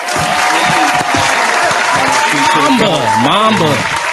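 A round of applause from a crowd at a Hall of Fame induction ceremony honoring Kobe Bryant, dense and loud throughout, with voices and whoops rising over the clapping near the end.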